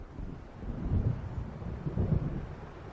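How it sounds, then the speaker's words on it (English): Low rumbling wind and distant thunder build through a storm approaching over open water in the game Alan Wake Remastered, with two louder swells of rumble standing alone without talk. "It seems there's a storm coming."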